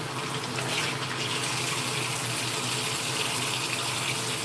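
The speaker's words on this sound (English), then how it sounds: "Then rinse this rag out again." Tap water runs steadily as a rag is rinsed under a kitchen faucet, a continuous near hiss and splash with no talking.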